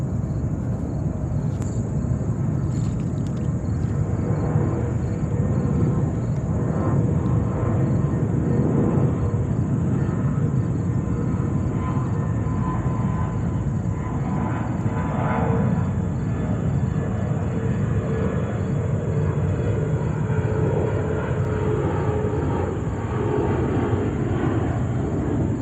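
A jet airliner departs JFK Airport in New York, its engine roar a steady, loud broadband rumble that holds for the whole stretch without pause, with a constant high-pitched whine running underneath.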